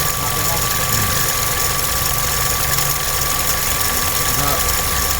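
A machine engine runs steadily nearby, a continuous rumbling drone with light rattling and knocking texture, loud and unbroken throughout; no talk is heard over it.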